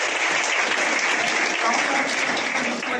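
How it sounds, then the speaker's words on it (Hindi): An audience at a business success-story gathering claps steadily throughout, a close, even wash of applause with no break. "ताली बजाते हुए आप लोग"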